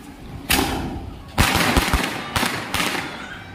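A Cock brand Penta sky shot firework goes off outdoors at Dussehra, giving a sharp whooshing burst followed by a quick rattle of several crackling pops and then two more distinct bangs, loud and close.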